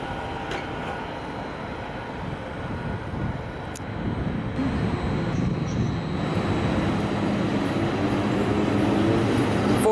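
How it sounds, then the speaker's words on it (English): Lone locomotive rolling past at Budapest Keleti station, a steady broad rumble with rising mechanical roar as it nears, heard alone without voices. "there's just a lonely locomotive going somewhere"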